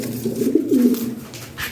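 An imported Lahori Shirazi pigeon gives a short, low throaty coo, close and fairly loud, with faint room noise behind it.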